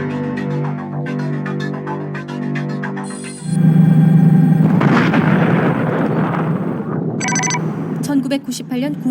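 A large LPG filling station explosion in Bucheon, Gyeonggi-do: after a stretch of steady tonal sound, a sudden loud blast bursts in and rolls on as a dense, rumbling roar, with sharp bright tones cutting in near the end.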